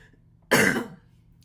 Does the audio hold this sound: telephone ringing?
no